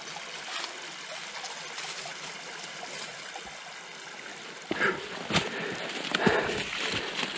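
Water trickles steadily at the last water point along a West Virginia mountain hiking trail, a soft continuous flow with a few louder splashes and knocks near the end.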